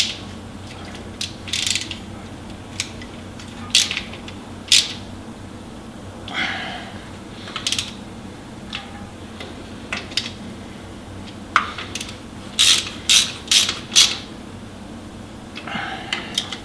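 A ratchet wrench clicks in short bursts while tightening bolts on a Dana 44 axle from a 1972 International Harvester Scout II, with crisp intermittent ratcheting over a low steady background hum.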